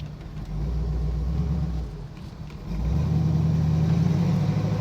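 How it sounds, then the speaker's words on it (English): A 1976 Pontiac Trans Am with a 460 cubic inch V8 rumbles deep and close on a test drive. It swells under throttle, eases off briefly, then pulls strongly again with no talk over it. "we'll give it some gas so you can hear how that 460 cubic inch motor sounds"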